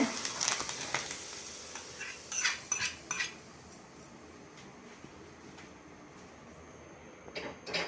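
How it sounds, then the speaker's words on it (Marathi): Hot oil poured over a bottle gourd dough mixture for steamed dudhi muthiya, giving a brief sizzle with light clinks of a spoon against the bowl in a quiet kitchen. "दोन टेबलस्पून तेल कडकडीत गरम केले ते यावर घालते"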